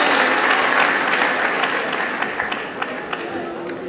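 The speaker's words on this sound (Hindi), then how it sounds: "जोरदार तालियां साथियों राम गीत के लिए।" Audience applause at a poetry recital, a dense wash of clapping from a crowd that holds steady and then slowly thins, with a few sharper individual claps standing out near the end.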